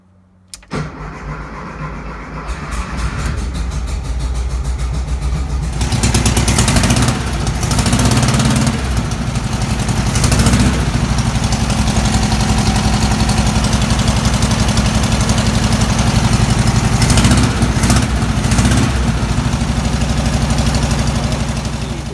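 A 1973 Volkswagen Thing engine cranks briefly, catches and settles into a steady, loud idle that runs on without pause.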